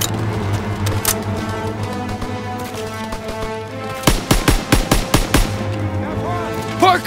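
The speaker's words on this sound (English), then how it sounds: "Lay down fire on that MG! MG fire interrupted!" Bursts of machine gun fire in the Call of Duty: WWII Hill 493 battle, a rapid run of loud, close shots over a steady drone of battlefield noise, with shouted voices around it.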